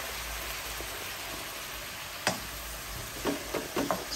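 Plain, unspiced vegetables sauté in a hot pan in a home kitchen, giving a steady, soft sizzling hiss throughout, with a few sharp clicks and scrapes of stirring near the end.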